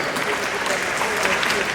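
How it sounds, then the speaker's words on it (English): Steady applause from a school concert audience for elementary students, a continuous dense patter of clapping that holds evenly throughout without a break. "Could we give them one more round of applause?"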